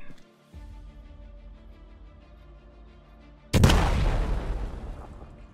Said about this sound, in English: That's not even fireworks, bro. That's just a fucking bomb.